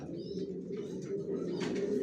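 Homing pigeons of a Johnson long-distance racing line cooing softly in a loft, a low continuous murmur of several birds with a brief higher chirp near the end.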